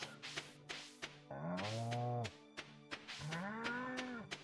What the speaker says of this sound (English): We've got cows.